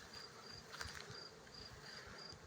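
Bees work blooming lavender in a garden, their steady buzzing humming close by with a few brief louder passes, over a faint high insect whine.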